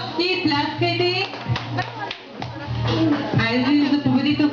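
People at a birthday party clap for a game score. The claps come in short scattered bursts among loud, overlapping voices.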